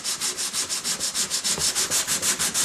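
Sandpaper held flat on a Bondo spreader rubs back and forth across a molded surface in prep for paint, a rhythmic rasping hiss of about fifteen quick strokes, close and steady.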